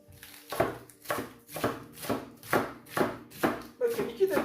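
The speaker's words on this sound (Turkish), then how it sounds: "İnce ince kesiyoruz" Knife slicing lettuce thinly, a steady series of nine crisp chopping strokes about half a second apart, close and fairly loud with a soft leafy crunch.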